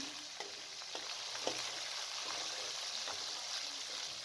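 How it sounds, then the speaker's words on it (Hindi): Spices stirred with a spoon in a hot frying pan alongside garlic and ginger for a gobi chicken curry; a continuous close sizzle with intermittent scraping strokes of the spoon against the pan. "अब तमाम मसाला जात को शामिल कर लें और अच्छी तरीके से चम्मच चला लें।"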